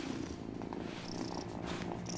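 Cat purring in the video game Wylde Flowers, a soft continuous rhythmic purr, quiet and close, with no speech over it.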